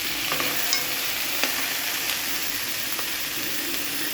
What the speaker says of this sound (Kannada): ಇದ್ರ ಜೊತೆಗೆ ನಾನು ಟೊಮಾಟೊ ಹಾಕ್ತಾಯಿದ್ದೀನಿ ಮತ್ತು ಮೆಣಸಿನ್ಕಾಯಿ. ಇದು ಅಷ್ಟು ಸ್ವಲ್ಪ ಒಂದು 5 ನಿಮಿಷ ಫ್ರೈ ಆಗಬೇಕು.